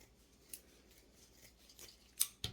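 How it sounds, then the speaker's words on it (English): Scissors snipping burlap ribbon in half for a wreath, sharp close cuts scattered across quiet handling, with two crisp snips near the end. "I'm just going to snip all of these in half"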